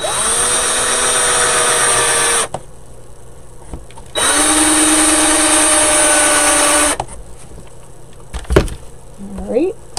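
A power drill with a screwdriver bit runs in two loud whining bursts of a few seconds each, winding up at the start, separated by a quiet pause, followed by soft handling noises.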